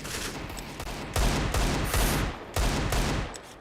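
Desert Eagle pistols firing in a Counter-Strike match, several sharp, loud shots in bursts with echoing tails, trading back and forth in quick succession.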